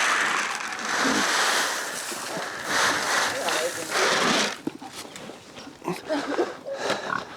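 Several pigs grunt and snuffle in a farm run near their pig house. The rough, low grunts come in bursts and sit under a person talking close by.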